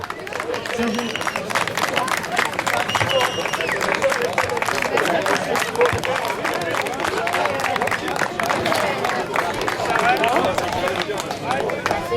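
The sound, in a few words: applause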